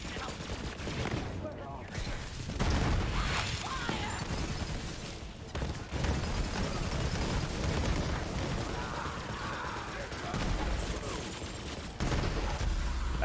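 Westergun SMG firing in Borderlands 3, long rapid automatic bursts with mechanical clatter, loud and close, broken by short pauses, with game effects and a voice talking over parts.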